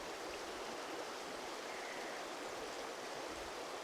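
River water flowing steadily beside a road crossing near Lacar Lake in San Martín de los Andes, Argentina, a constant broadband rush close by with no pauses.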